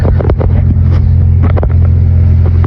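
A Honda Integra engine idles steadily and evenly after an ignition upgrade with a new distributor cap, rotor and plug wires, a loud continuous low rumble with a few brief louder bursts.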